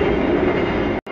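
Inside a moving passenger train, a loud steady rumble and rattle of wheels on rails fills the cabin, cutting out abruptly near the end.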